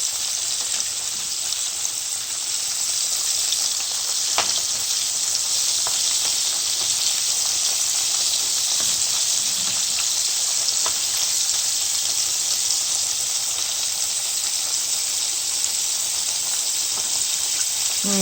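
Extra large spicy shrimp fry in a pan with a steady, even sizzling hiss and a few faint clicks, with no talking.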